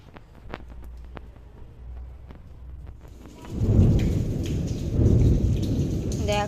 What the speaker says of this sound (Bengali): দেখো বৃষ্টি শুরু হয়ে গেছে, এখনো কিন্তু বৃষ্টি পড়ছে, ঝিমঝিম করে পড়ছে